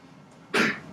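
A single abrupt sneeze from a student in a classroom during a lesson, one short burst that rises sharply out of quiet room tone and fades within a fraction of a second.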